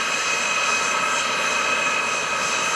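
A Boeing KC-135R Stratotanker jet flies at an airshow, giving a steady, loud, continuous engine roar with no breaks.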